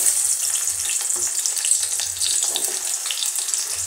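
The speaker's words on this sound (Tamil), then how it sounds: "இப்போ வெங்காயத்தை உள்ளே போடலாம்." Small onions hit hot oil in a pan for a homemade hair-fall oil remedy, producing a loud, steady sizzle and crackle with scattered pops throughout and no talking.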